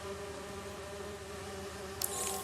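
In Marvel's Spider-Man 2, bees buzz in a steady, droning hum at moderate volume, with a brief higher-pitched rustle near the end.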